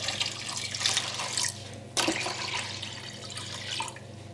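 Water pours steadily into a large pan of red lentils for a Bangladeshi tarka dhal, a continuous splashing stream with a brief break midway before resuming, fairly close with no talk.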